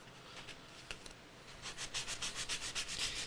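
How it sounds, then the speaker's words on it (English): A sanding block rubs across a laser-engraved surface to clear charring, giving a steady rasping scrub that speeds into a regular back-and-forth rhythm, close and alone. "you can use a sanding block."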